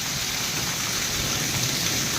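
Steady, dense summer rain pours down close by at Kalasar, Chotila, a constant hiss with no pauses, no distinct thunder or hail impacts standing out.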